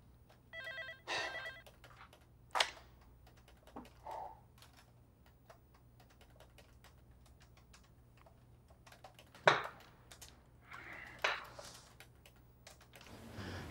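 An office telephone rings in a short burst of trilling tones, then scattered keyboard clicks and brief knocks follow in a quiet room.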